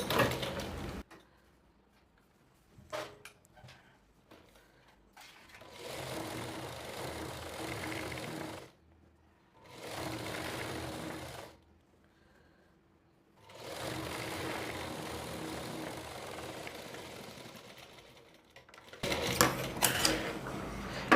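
An electric sewing machine stitches together the edges of a fabric border for a Rajputi poshak, running in several long, steady whirring bursts separated by brief pauses and small clicks, close and fairly quiet, with no speech.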